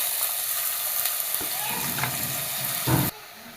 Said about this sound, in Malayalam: ഈ എണ്ണയിൽ കിടന്നിട്ട് തന്നെ നന്നായിട്ടൊന്ന് വഴറ്റിയെടുക്കാം